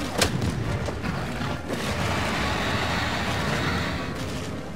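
Explosions in Monster Hunter World, a sharp booming blast near the start followed by rumbling, crackling detonation noise that lingers for several seconds, with faint game ambience behind.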